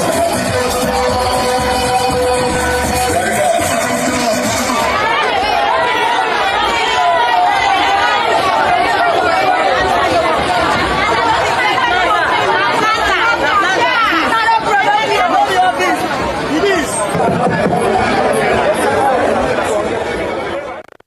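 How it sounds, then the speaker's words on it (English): A massive crowd at a political campaign street rally in Akwa Ibom, Nigeria, a loud, continuous babble of many voices and shouting that fills the whole stretch without pause. "Wow, look at that massive crowd, Rufai."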